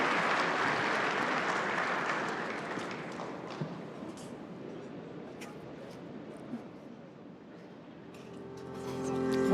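Conference audience applauding for the Snap co-founder and CEO, broad crowd clapping that is loud at first and gradually fades, with a voice speaking near the end.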